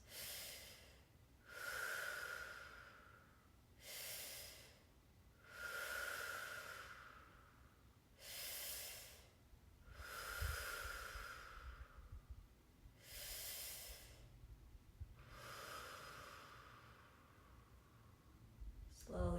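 Slow, deep breaths taken during a lying fascia stretching exercise with a bolster, about six long inhale-exhale cycles, soft and close, evenly paced with quiet pauses between them.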